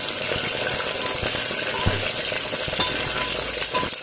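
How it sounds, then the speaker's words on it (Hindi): Ginger pieces browned in hot oil sizzle with green chillies, a steady crackle under a few scraping stir strokes and soft clicks of a spoon against the pan. "अदरक के टुकड़े फ्राई हो चुके हैं, ब्राउन हो चुके हैं, अब इसके अंदर हम डालेंगे मिर्ची, हरी मिर्ची"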